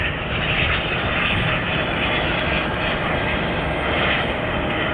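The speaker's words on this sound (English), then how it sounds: "Yet another private jet." A private jet passes overhead near an airport, producing a steady, loud, broad roar that holds without a break for the whole stretch, with no talking.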